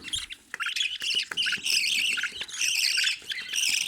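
Pet budgerigars in a breeding cage squawk and chirp continuously, loud and close, with harsh overlapping calls and a few soft clicks, and no voice over them.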